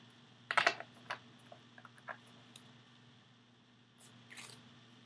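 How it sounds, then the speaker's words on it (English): Tarot cards are shuffled close by, with a quick cluster of crisp riffling snaps at first, then scattered soft taps and a final faint flurry over low room hum. "Just going to shuffle really good"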